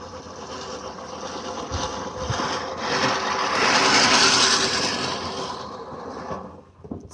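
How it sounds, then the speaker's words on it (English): A next generation reel lawnmower is pushed through grass outdoors, giving a continuous whirring, rattling cut that swells louder in the middle and then fades. "See how that mower cuts? It cuts like a gas-powered one."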